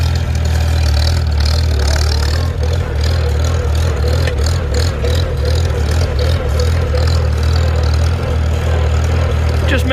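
Farmall Super C tractor engine running steadily in third gear, a loud, close, continuous low chugging drone with a slightly uneven mechanical rattle above it and no pauses.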